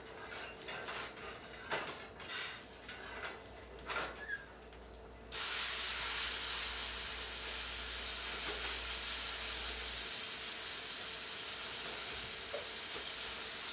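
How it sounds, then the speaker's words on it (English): Food hits a hot pan and sears, opening with a few clinks and light handling noises before a sudden, loud, steady sizzle takes over and holds to the end. "So we get the instant sear."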